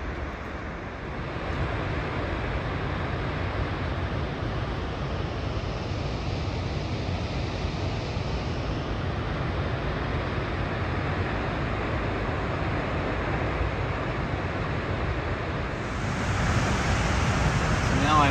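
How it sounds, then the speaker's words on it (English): Roaring waterfall plunging down into the Yellowstone canyon, a steady broadband rush of falling water heard continuously from nearby, with the roar swelling slightly louder near the end. "Even from here, you can feel a little bit of the spray from that waterfall as it comes down."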